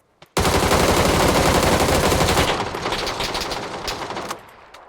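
Loud, rapid automatic gunfire from a weapon in the battle royale game PUBG, a sustained burst of close shots lasting several seconds before trailing off into fainter echoing fire.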